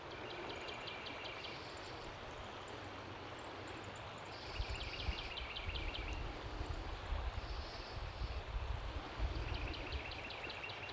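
The James River flows past a riverside trail in a state park, making a soft, continuous wash of moving water, with a low rumble and repeated bird trills over it. No one speaks.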